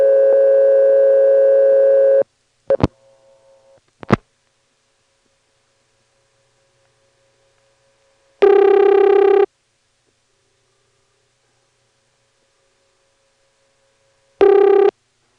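Centel telephone network tones from 1977: a loud steady tone runs for about two seconds, followed by a few short bursts and a click. Two more loud tone bursts come later, separated by long silence, with no voices.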